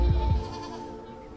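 Goats used for eco-grazing bleat in a quavering, wavering call that starts with two quick pulses and trails off, fairly close, with no talk.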